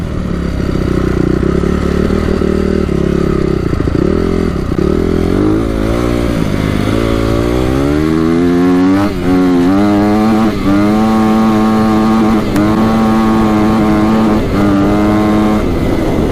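A Honda CRF250R dirt bike engine, hard to start after a no-start fault, runs loud and close with an uneven idle, then climbs through several rising revs and holds higher with a rough, buzzing note.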